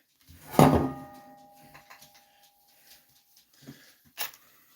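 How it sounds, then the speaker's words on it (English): Dog indoors gives one loud close bark, followed by a few faint, scattered thumps and a sharp knock near the end in an otherwise quiet room. "I don't know what Ruby's barking at"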